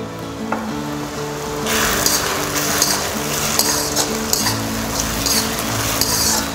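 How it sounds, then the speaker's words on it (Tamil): Green chillies and onion masala sauté in a pan with a steady, loud sizzle, joined by intermittent clinks of a spoon stirring against the metal pan. "கைவிடாமல் நல்லா வதக்கிட்டே வாங்க."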